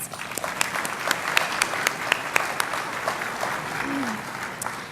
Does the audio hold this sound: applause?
yes